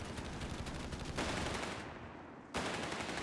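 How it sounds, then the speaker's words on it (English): Sustained machine-gun fire in the video game Company of Heroes 3, a dense continuous rattle that briefly thins out mid-clip before the loud burst resumes, with no voices. "But there's a pretty handy win for the machine gun, looks like."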